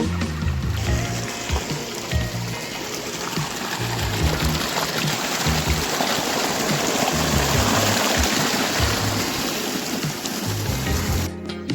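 Irrigation water flows and gurgles steadily close by, a continuous rushing trickle through a channel in a wheat field in Gujarat, with faint low background noise.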